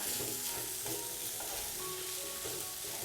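Bread roll masala filling being mixed in a pan, with a low, steady scraping and stirring texture and a soft sizzle underneath, continuous and fairly quiet throughout, with no talking.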